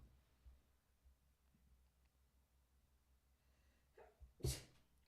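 A single sharp sneeze bursts out near the end after a quiet stretch with faint low background noise.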